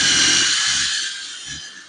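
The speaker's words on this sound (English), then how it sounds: "A drill." A power drill runs in a steady high whine in a hoop house where a tomato string trellis is being put up, loud and close, easing off slightly over a couple of seconds with a few low knocks beneath.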